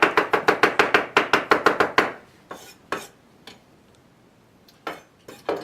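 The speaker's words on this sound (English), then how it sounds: "And I'm going to start by chopping." Rapid knife chopping of asparagus on a cutting board in a home kitchen, about fifteen quick close taps in a steady run, then a few scattered clicks and knocks with quiet gaps between.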